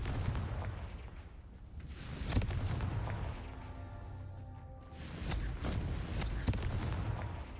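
Confringo fire spell explosions from Hogwarts Legacy, a game, bursting in repeated loud booms and crackling blasts with a brief tonal shimmer between them, over steady game background noise.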